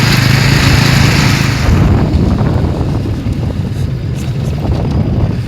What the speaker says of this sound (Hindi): अभी मैं बाइक से जा रहा हूँ सत्तिंगल